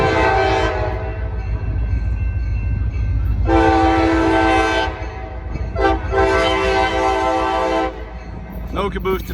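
A local freight train, long hood forward, passes a railroad crossing with loud sustained horn blasts, one long and then another after a short break, over the rumble of the locomotive and rolling cars.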